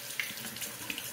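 A tap runs steadily to rinse after soap use, a close, constant watery splash with a few brighter droplet spatters, no speech over it.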